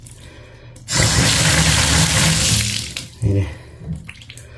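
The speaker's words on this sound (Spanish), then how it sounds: "El agua, miren, apenas si se va bien despacito." Water running and gurgling in a clogged bathtub that drains very slowly, a loud steady rush lasting a couple of seconds, then a brief surge and quieter trickling, with a short spoken word before it.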